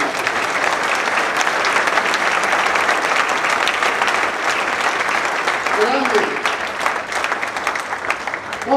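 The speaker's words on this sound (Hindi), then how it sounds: "जोरदार तालियों से खुदा को" A church congregation at a Friday service bursts into sustained, loud applause that fills the room evenly from start to finish, with crowd noise mixed in and a slight dip near the end.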